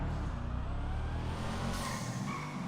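Karin Sultan RS car engine in GTA Online running steadily with a loud, continuous rumble and slight rise in pitch near the end, no talk.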